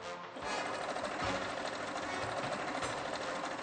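A sewing machine runs continuously at steady volume, a dense mechanical whir with a fast rattling rhythm heard up close throughout.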